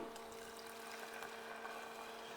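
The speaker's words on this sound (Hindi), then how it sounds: "अब यहाँ पे जब तक ये कुक हो रहा है, इसमें डालता हूँ मैं 2 टेबल स्पून पानी" Water poured from a spoon into a pot of cooking pulao, a soft, steady wash of liquid lasting a couple of seconds over a low kitchen hum, with no talking.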